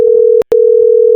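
A loud, steady electronic telephone tone for an incoming call, a single sustained pitch broken by one brief gap, close and alone with no talking.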